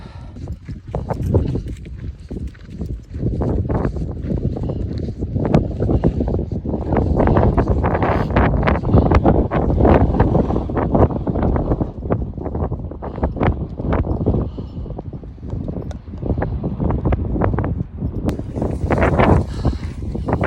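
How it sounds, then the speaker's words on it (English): Strong wind buffeting a microphone outdoors on a mountainside during an elk hunt, heavy loud rumbling gusts that roar continuously throughout with no clear speech. "I don't know that you'll hear me through the wind"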